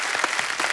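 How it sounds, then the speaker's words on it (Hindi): Studio audience clapping on a Hindi television comedy talk show set, a steady, fairly loud wash of applause running throughout with no voices on top. "तालियां और जोर से होनी चाहिए जरा"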